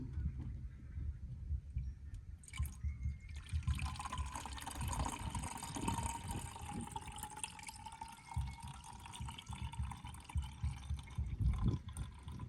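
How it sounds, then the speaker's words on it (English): Old coolant drains out of a Ford Falcon BA/BF engine into a plastic reservoir, a steady trickling and splashing flow of liquid heard close up, continuous for the whole stretch. "I'm going to attempt to capture the old coolant back into this reservoir."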